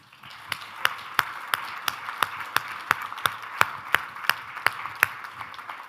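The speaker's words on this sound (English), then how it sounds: "Round of applause for all of you." Thin clapping at a primary care conference's closing session, a few near, crisp hand claps in a steady rhythm over a soft background wash of distant applause.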